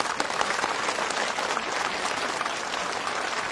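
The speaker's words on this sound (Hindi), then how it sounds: "तालियां।" A crowd claps steadily in sustained applause, dense and even throughout, with no voices over it.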